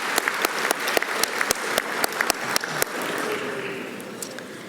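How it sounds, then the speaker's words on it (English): A scattered round of applause at the 2019 Heritage College graduation ceremony: distinct, sharp individual claps in an uneven rhythm that thin out and fade to a quiet room after about three seconds. "So a round of applause, please, for everyone for tonight, and our valedictorian"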